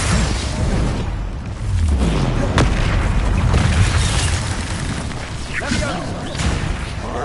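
Spell-casting explosions from a Harry Potter video game boom and burst repeatedly over several seconds, loud and dense, mixed with swooshes, while a player calls out spell names throughout.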